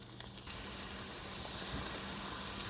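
Quarter of a sweet onion and quarter of a green pepper, cut into large strips, sizzling steadily in a pan, a soft continuous hiss with faint crackles and no voices.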